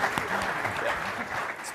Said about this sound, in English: If everyone give him a round of applause.